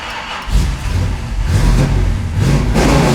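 A 1969 Chevrolet Camaro SS 383 restomod V8 revs hard and pulls away, its deep engine roar loud and close, rising in pitch as it accelerates.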